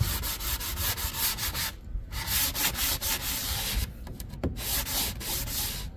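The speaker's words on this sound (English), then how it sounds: "Make sure you sand it down" Hand sanding of wood, a steady rasping scrub with rhythmic back-and-forth strokes, close and fairly loud, with two brief pauses between passes.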